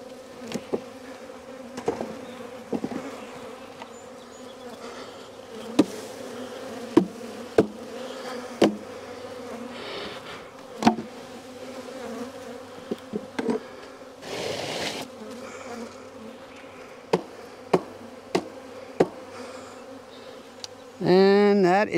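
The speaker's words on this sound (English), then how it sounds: "And then we have the box here full of some bees on it." Honey bees hum in a steady close drone around a nuc hive box, with occasional knocks and taps of equipment and a brief louder sound near the end.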